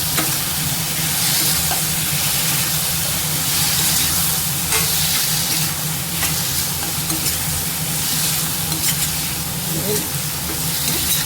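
Chopped ridge gourd frying in a pan for a Tamil peanut thokku, giving a continuous loud sizzle and hiss with faint stirring scrapes and a steady low hum throughout.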